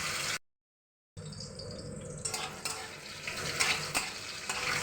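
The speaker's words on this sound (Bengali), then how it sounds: "আলুগুলোর মধ্যে শুধু আমি লবণ দিয়েছি, লবণ দিয়েই ভেজে নিচ্ছি।" Boiled potato pieces fry with salt in a pan, giving a close, steady sizzle with occasional stirring scrapes, broken by a short silent gap near the start.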